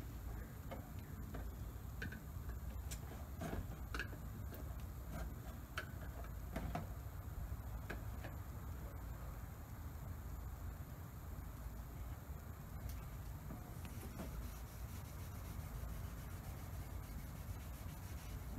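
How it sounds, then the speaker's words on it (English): Wood stain is rubbed by hand into a freshly sanded wooden board for a pipe wall shelf, making soft, continuous close-up rubbing with scattered light ticks and taps, faint and steady with no voices. "All you got to do is just rub it in."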